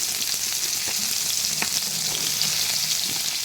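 Washed papaya pieces fry in a small amount of hot oil in a kadai, producing a loud, dense, unbroken sizzle up close, with faint stirring knocks beneath and no talking.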